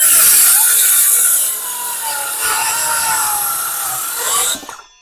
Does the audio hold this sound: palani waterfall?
no